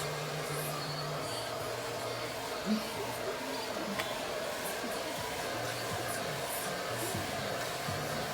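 A hair dryer runs steadily and fairly quietly while hair is blow-dried with a brush for volume, a continuous airy whoosh with only faint small bumps and no clear talk.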